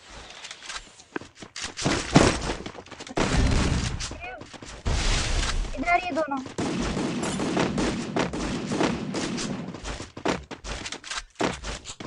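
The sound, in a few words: gunfire in a video game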